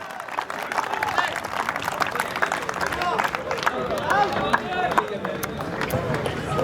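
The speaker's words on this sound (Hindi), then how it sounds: "एक बार जोरदार तालियां" Loud, continuous applause from a crowd at an award ceremony for an advocates' cricket league, with dense clapping and murmured voices blending throughout and no clear break.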